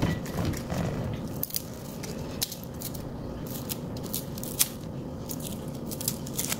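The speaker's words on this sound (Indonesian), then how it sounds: "Kita kupas ya bawang merahnya." Shallots being peeled by hand: close, faint crackling and scratchy clicks of papery skin coming away, scattered irregularly over a low steady room hum.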